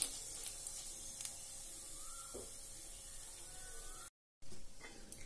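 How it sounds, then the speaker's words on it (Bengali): Dried red chillies and whole cumin seeds frying in hot oil give a soft, steady sizzle and hiss with a few faint spatters and light utensil touches, alone and quiet, cut by a brief dropout near the end. "ফোড়নটাকে আমি সুন্দর করে ভেজে নেব।"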